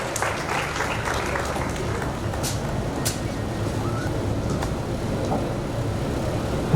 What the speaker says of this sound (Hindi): एक बार जोरदार तालियों से हम माजिद सर का इस्तकबाल फरमा दें